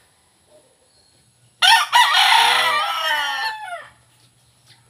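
A wild rooster crows once, loud and close, a long wavering call lasting about two seconds against a quiet background.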